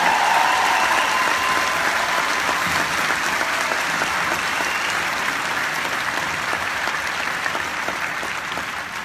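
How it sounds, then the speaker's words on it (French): An audience at a network marketing gathering breaks into sustained, dense applause for newly qualified vice-presidents, a steady wash of clapping that holds evenly and thins slightly near the end. "Vous pouvez les applaudir."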